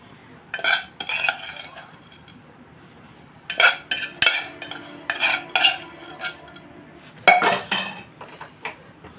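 A spoon stirs ghee-fried vermicelli into boiled milk in a pot, giving bursts of metallic scraping and clinking against the pot's sides, loud and close, with short pauses between strokes.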